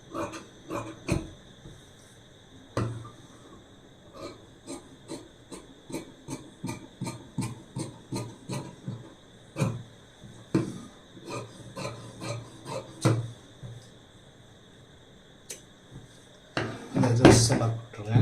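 Scissors cut blouse fabric along marked lines in a series of close, crisp snips in an irregular rhythm, pausing now and then before a busier rustling burst at the end.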